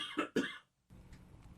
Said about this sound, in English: Sorry about that little coughing jag here.